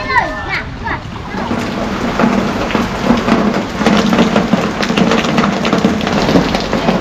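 Heavy rain pours during a nighttime flood with strong wind, a dense continuous hiss and splatter up close, with people talking over it, including a voice.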